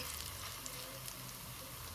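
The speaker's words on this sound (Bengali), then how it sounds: "পকোড়াগুলো ভাজা হয়ে গেছে" Pakoras fry in hot oil with a steady, faint, continuous sizzle and small crackles, close by and alone.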